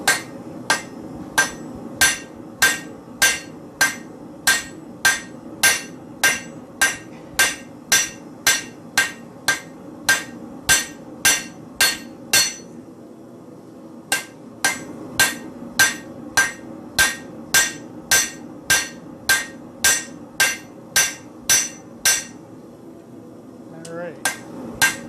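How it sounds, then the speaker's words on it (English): Steady, evenly spaced hammer blows ring on metal in a long run of sharp clanging strikes, the hammer rotated as it hits, with a brief pause midway and faint talk in the background. "So when I'm hitting, I'm actually rotating the hammer to get this backside"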